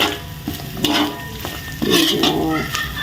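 Onion and garlic sizzle in hot oil for a spaghetti sauce, with a steady frying hiss broken by repeated clattering spatula strokes against the pan, up close and with no talking.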